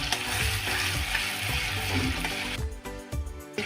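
Ginger-garlic paste and kasuri methi sizzle in a pan with cinnamon pieces and peppercorns for masala paneer tikka. The frying is loud and close, with a steady hiss and stirring scrapes that shift partway through, and no one speaks.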